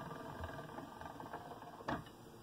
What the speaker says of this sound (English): It's really important to try and keep that pasta as smooth as possible going through this machine.